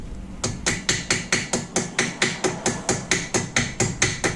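Pliers tap a brake part from the back in a steady run of about sixteen sharp metallic knocks, evenly spaced and close, over a low mechanical background.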